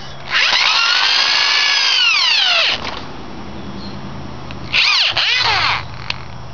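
Electric plumbing snake running in reverse, a loud whining motor with shifting pitch that runs for about two seconds, stops, then starts again in a shorter second burst.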